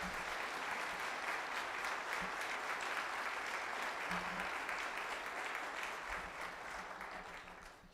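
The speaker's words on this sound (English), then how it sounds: "let's thank them at this time with a round of applause" Steady, dense applause from a church audience during a Sunday worship service, sustained clapping that fills the whole stretch and tapers slightly toward the end.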